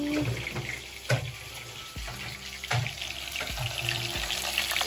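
Food fries in a pan while pickle is being made, a faint continuous sizzle broken by repeated knocks and clinks of utensils.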